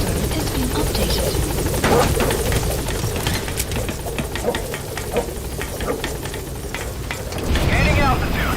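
A helicopter in Metal Gear Solid V whirs with a steady rotor and engine drone, fairly close and loud, mixed with game effects and a voice talking briefly.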